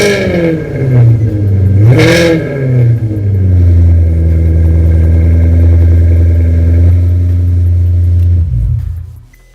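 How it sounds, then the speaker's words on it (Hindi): Ferrari engine in a parked car revving, a deep loud growl that climbs in a sharp blip early on, then holds a steady high rev before cutting off abruptly near the end. "So this is Ferrari engine."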